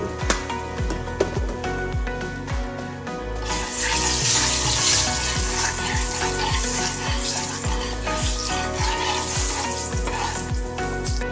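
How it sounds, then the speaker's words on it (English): Curry frying in hot oil in a pot, a steady crackling sizzle over a regular rhythmic low thumping, growing louder and brighter midway, with no talk. "Add some curry to the pot, to the oil."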